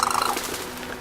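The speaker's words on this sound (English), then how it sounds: "What's this bird here?" A bird in the video game Brothers: A Tale of Two Sons gives a short run of clucking, gobbling calls, close and fairly loud at first, then fading into softer game ambience.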